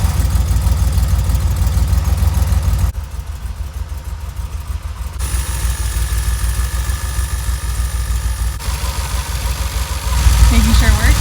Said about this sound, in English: just revving the engine, making sure that it doesn't hesitate